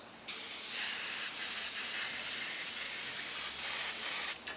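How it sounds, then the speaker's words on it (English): A steady, loud hiss of a spray gun spraying paint at about 50 psi onto a wooden gun stock, running continuously for about four seconds before cutting off. "I'm going to spray a coat over all this."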